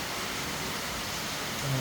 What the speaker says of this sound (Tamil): இதுதான் வெளியே வந்து வெளுத்துட்டு இருக்கு மழை அடை மழை